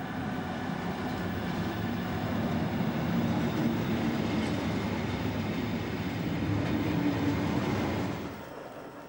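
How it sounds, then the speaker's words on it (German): A long freight train hauled by a privately operated class 185 locomotive rolls into Lauffach station on the Spessart ramp with a loud, steady rumble and rail clatter, fading toward the end. "Ein Güterzug mit einer privaten Lok. Einfahrt in Lauffach im Spessart."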